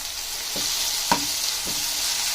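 Onion and tomato fry with ginger garlic paste in a pan, a steady soft sizzle broken by three light stirring taps, the middle one the sharpest, with no voices.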